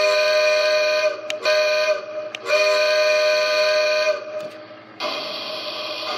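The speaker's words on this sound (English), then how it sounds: "let's hear some of the sounds, starting with the whistle, which is activated by pressing the whistle button here" Steam-style whistle from a Lionel LionChief C&NW toy steam train set, sounding as several loud sustained multi-tone blasts with brief breaks between them, no talking.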